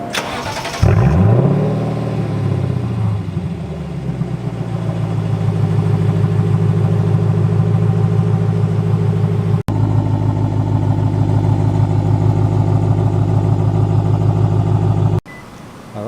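A Lexus LC500 engine cranks and fires up loudly close by, flaring high before settling into a deep, steady rumbling idle that holds for the rest of the clip, with no talking.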